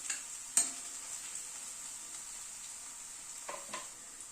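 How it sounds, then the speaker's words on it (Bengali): Garlic sizzles quietly in a pan while being stirred, a faint steady hiss broken by a few soft scrapes and clinks of the spoon, with no talking. "রসুনটাকে দিয়ে একটু নাড়াচাড়া করে নিলাম।"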